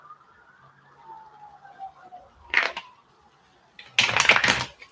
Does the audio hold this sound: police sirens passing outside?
yes